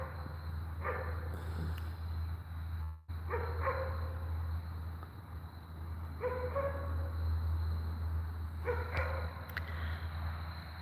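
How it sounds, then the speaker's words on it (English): A dog barks in short bursts of a few yips at a time from some distance, repeated every few seconds over a steady outdoor hum of insects. "that dog sure is making a lot of noise."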